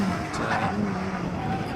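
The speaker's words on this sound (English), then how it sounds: "David Marshall into Farmhouse Bend, Peugeot 205 GTI." A Peugeot 205 GTI race car drives through a bend at a hillclimb, its engine a steady, fairly distant roar mixed with outdoor noise for the whole moment.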